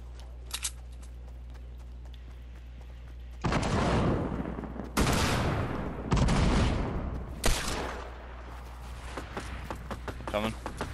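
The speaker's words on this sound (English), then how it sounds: "Shots from Wes." Gunfire in a squad shooter video game, several sustained bursts of rapid shots at moderate level, with a few fainter shots before and after.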